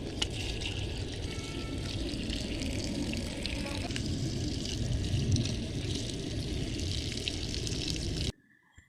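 Water is poured into a homemade organic compost mixture of green leaves and kitchen waste, making a continuous, fairly loud rushing splash that runs steadily and then cuts off abruptly at the end.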